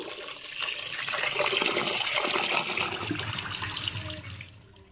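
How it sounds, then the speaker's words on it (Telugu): Rice being washed in water sloshes and splashes close by in a continuous swirling rush that swells, then eases off toward the end. "ఇప్పుడైతే నేను రైస్ని కడుగుతున్నాను"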